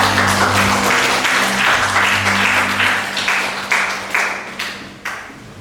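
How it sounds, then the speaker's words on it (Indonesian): A high school history class bursts into applause, dense clapping from many hands that thins out toward the end into a few separate, fading claps. "beri aplaus dulu untuk siapa"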